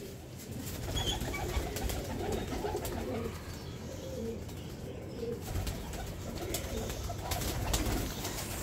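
Pigeons coo steadily nearby, with soft low throaty calls repeating over a constant background hum. No one speaks.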